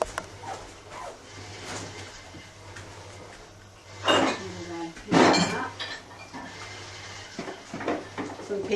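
Muffin ingredients are stirred in a bowl in a home kitchen, making irregular clinks and scrapes of a utensil against the bowl. Two louder clattering bursts stand out, with faint voices in the background.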